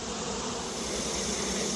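Honey bees buzzing around an open hive on a hot summer day: a dense, steady drone of many wings, close and unbroken throughout, with no voices.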